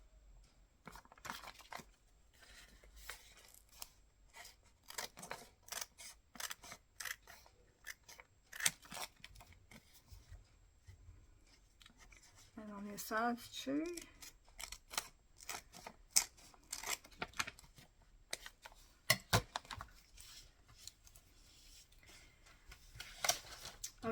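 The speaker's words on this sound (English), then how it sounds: "I'm just going to cut it a little bit." Scissors snip through paper while a mini file folder is crafted, giving quick crisp cuts in irregular bursts, close and fairly quiet, with a brief spoken remark.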